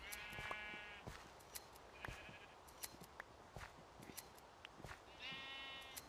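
Sheep bleating in the Minecraft video game, several distinct wavering bleats spread across the stretch, mixed with clicky gameplay sounds and faint in level.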